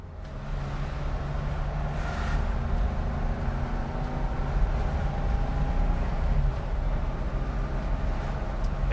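A 1971 Porsche 911E driving over bumps at about 50 mph, a steady engine hum and road rumble heard from inside the car, fairly quiet and continuous, with no talk.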